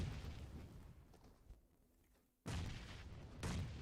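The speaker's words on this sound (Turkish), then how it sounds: "Önlerine bir bomba atıldı." A grenade explosion in a video game scrim, heard as a loud, close blast that cuts in sharply after a quieter stretch of rumble, followed by a second burst, with no talk.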